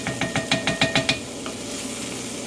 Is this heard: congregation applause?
no